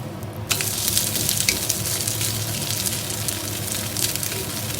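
Moringa leaf dosa cooking on a hot pan, a steady broad sizzle with crackle that jumps up sharply after a short quieter start, close and even.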